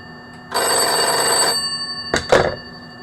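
A telephone bell rings in one loud, bright burst of about a second, with a harsh metallic tone, followed by a couple of short clunks like a handset being handled.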